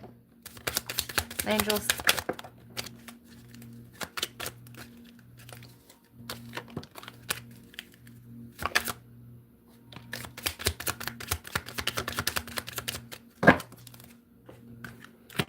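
Soft, papery tarot card shuffling in repeated bursts of riffles and taps, close by, with a quiet steady hum underneath and a brief spoken word.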